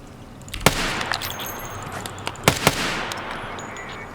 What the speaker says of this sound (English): the emergency reload test.